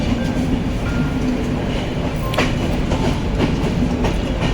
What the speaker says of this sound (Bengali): শিয়ালদা থেকে ট্রেন ছেড়ে দিয়েছে।